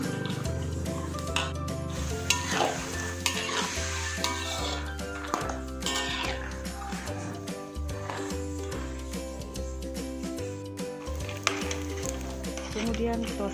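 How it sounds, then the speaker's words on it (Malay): Peanuts sizzle and crackle in hot oil continuously, with occasional stirring scrapes, close up under some faint background music. "goreng kacang tanah sehingga"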